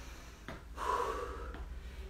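One deep, audible inhaled breath during a home exercise workout, drawn in close and breathy for about a second after a brief snort-like intake, with no talk.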